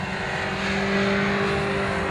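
MG race cars at Croft circuit head into the hairpin, a loud steady engine roar with a sustained droning tone filling the short stretch, close trackside and without talk.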